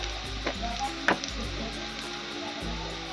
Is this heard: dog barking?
no